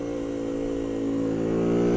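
A Bullit Hero 50cc motorcycle engine drones close and loud with a steady, rising buzz as the rider accelerates, its pitch climbing gradually over two seconds with no voices.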